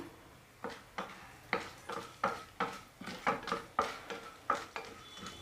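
A utensil stirs and taps in a pan while cumin seeds are sautéed for ridge gourd chutney, about a dozen evenly spaced metallic clinks and scrapes, close and fairly quiet, with no voices.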